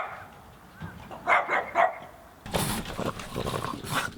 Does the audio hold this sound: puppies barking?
yes